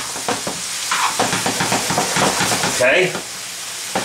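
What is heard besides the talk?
sautéing vegetables for lasagne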